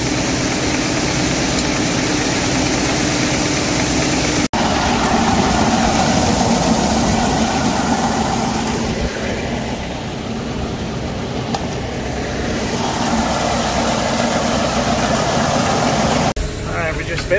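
A Fendt tractor engine drones steadily with a grain cart in tow, a constant low rumble throughout with a brief knock near the start; speech likely sits faintly under the engine noise.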